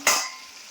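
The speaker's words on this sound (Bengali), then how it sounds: "এটাকে ভালো করে কষতে হবে" Young jackfruit being sautéed with mutton fat in a pan, a single sharp scrape and sizzle burst from stirring that quickly fades into a soft, low frying hiss, close and without talk.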